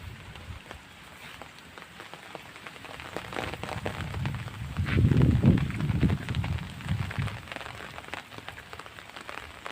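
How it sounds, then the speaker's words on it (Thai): Steady rain pours down during a stormy spell over rice paddies, a dense hiss of drops on surfaces swelling louder around the middle before easing back, with low rumbling wind gusts. "ฝนตกมาใส่"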